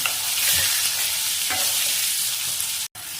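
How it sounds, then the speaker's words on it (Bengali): Potatoes fry in a pan with a continuous, even sizzle of hot oil and a few soft stirring knocks, no voices present. "আলুটা লালচে করে ভাজার জন্য এখানে 3 থেকে 4 মিনিট মতো আমাকে সময় দিতে হবে।"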